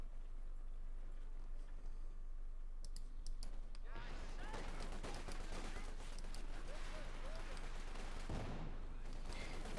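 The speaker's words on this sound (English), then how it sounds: "There you go, bit of shooting." Gunfire rattles in the World War II strategy game Company of Heroes 2, as dense bursts of clattering shots that start a few seconds in and keep going, fairly quiet under the game's ambience.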